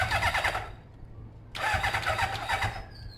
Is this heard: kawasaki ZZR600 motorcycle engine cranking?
yes